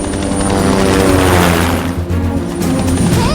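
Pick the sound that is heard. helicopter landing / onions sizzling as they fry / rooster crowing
helicopter landing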